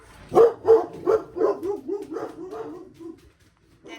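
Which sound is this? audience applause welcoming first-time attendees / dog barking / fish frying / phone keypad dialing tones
dog barking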